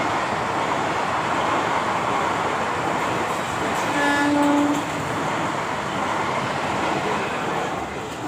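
A train rolls into Vandalur station with a steady rumble of wheels and carriages, a short horn toot rising partway through, heard from on board amid constant broadband noise.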